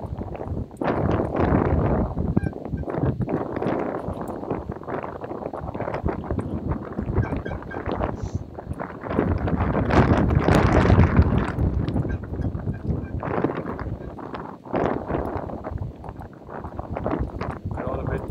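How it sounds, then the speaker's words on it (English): Strong wind buffets the microphone in continuous gusty roars at an outdoor cricket match, with a voice occasionally audible beneath the noise. "Vinor, it does get quite windy"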